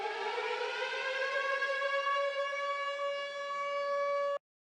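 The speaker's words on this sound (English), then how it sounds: "This is the processed Siren." A processed civil-defense-style siren sample from a Savage sample pack, playing in FL Studio for a hip-hop beat: one steady, slowly rising harmonic wail held for over four seconds, then cut off abruptly.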